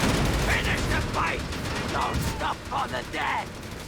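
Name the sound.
gunfire and incendiary rounds in Company of Heroes 3 video game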